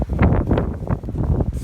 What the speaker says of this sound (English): this is probably the intensest wind ever